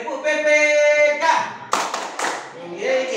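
A classroom of students claps out the PPK clap rhythm in quick patterned bursts of hand claps, with voices chanting and talking around and between the claps in a lively indoor room.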